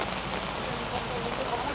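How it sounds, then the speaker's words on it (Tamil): Heavy rain pours steadily on an outdoor road in Kerala, a dense, unbroken hiss at constant loudness for the whole stretch with no pauses. "மழை வெளுத்து நின்றுட்டு போவோம்."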